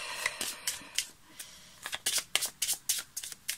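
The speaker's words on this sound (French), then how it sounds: "On va d'abord s'occuper de battre les cartes de ce jeu" A deck of tarot cards riffled and shuffled by hand, a series of crisp flapping bursts that grow louder and more rapid toward the end, close up.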